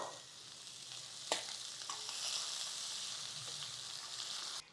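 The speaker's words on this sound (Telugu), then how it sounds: "ఒక ఉల్లిపాయ సన్నగా ముక్కలు తరిగేమో అవి వేసేస్తున్నాను" Finely chopped onion frying in oil for masala khichdi, a steady hiss of sizzling with one sharp clack of a utensil early on and soft stirring sounds.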